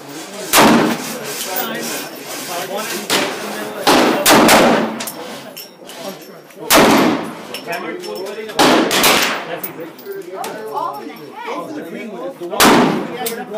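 Beretta Cx4 carbine fired in a run of sharp, loud, close gunshots, single cracks and quick doubles spaced a second or two apart, each trailing a short echo.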